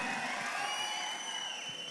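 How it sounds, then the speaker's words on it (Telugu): Crowd at a Megastar Chiranjeevi birthday celebration claps and cheers in a steady, dense wash of noise that holds evenly for the whole moment, with no voice standing out. "ఒక్కసారి అందరూ చప్పట్లు కొట్టండి."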